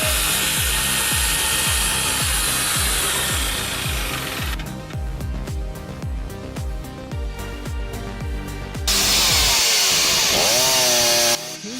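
A chainsaw mounted on a support frame cuts through firewood, its engine whining steadily with rhythmic bogging pulses as it bites into the logs, then a change in pitch and a final high rev as the saw finishes and idles.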